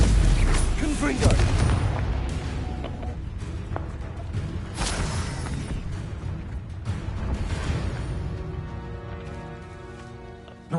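A booming fiery blast from the Confringo spell in the video game Hogwarts Legacy rumbles loud and close, followed by crackling debris and combat effects over a layered game soundscape, with a voice calling out during it.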